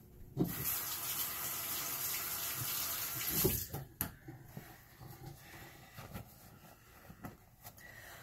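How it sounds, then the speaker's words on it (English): A kitchen tap runs steadily while hands are washed beneath it, the flow cutting off after a few seconds and leaving faint clatters and handling sounds close by. "Wash your hands."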